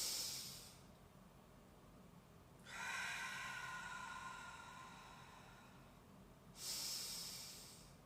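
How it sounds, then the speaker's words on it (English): Long, slow breaths pushed out through the mouth during a breathing exercise for the abs, two airy hissing exhalations, close and quiet, with a longer one in the middle, no talking. "hold it and breathe out super slow"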